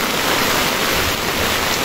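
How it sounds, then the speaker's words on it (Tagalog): Heavy rain pouring down during a typhoon, a loud, dense, unbroken hiss of water with no pauses and no voices. "Tara, sugurin natin ang malakas na ulan."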